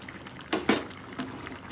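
Liquid bubbling in a pot while pineapple ham cooks, a few soft gurgling bursts over a quiet simmering background, close and moderately loud.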